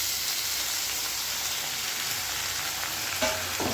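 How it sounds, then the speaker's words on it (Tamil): Carrots and potatoes sauté for sambar, giving off a steady, close frying hiss that runs throughout, with a brief stir or scrape near the end and no talking. "கேரட்டு உருளைக்கிழங்கு போட்டு கொஞ்சம் வதக்கிட்டு"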